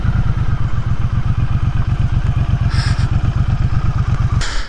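A Triumph Bonneville Speedmaster motorcycle rides along back lanes, its engine a steady, loud low thrum with a rapid regular pulse throughout, plus a couple of brief higher swooshes near the end.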